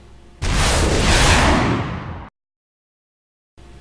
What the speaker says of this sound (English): first we have the missiles.